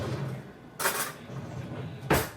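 A spoon scraping and scooping seeds out of a butternut squash, two distinct scrapes with faint handling sounds between, close and fairly loud.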